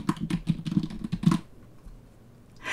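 Computer keyboard typing as a new password is entered: a quick burst of close key clicks for over a second, then quiet, with no talk.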